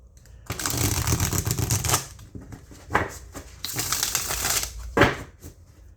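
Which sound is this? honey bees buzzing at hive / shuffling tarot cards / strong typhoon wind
shuffling tarot cards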